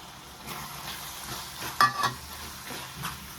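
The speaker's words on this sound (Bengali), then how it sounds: "মশলাটাকে আমি চিকেনের স্টক দিয়ে দিয়ে কষাবো অল্প অল্প চিকেনের স্টক দেবো আর মশলাটাকে কষাবো" Chicken pieces frying in spice masala with splashes of chicken stock, a steady low sizzle with soft stirring scrapes and a couple of brief spatula knocks, no voices.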